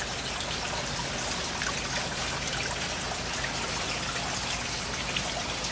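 Steady water trickling and dribbling through a backyard aquaponics plant bed, a constant close wash of fine droplets with no pauses and no voices.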